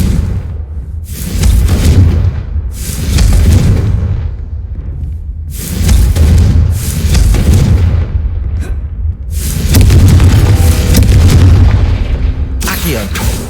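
The Confringo explosive spell in the video game Hogwarts Legacy goes off as loud, heavy booming blasts in a series of rolling bursts, one after another, over dense low rumble from the game.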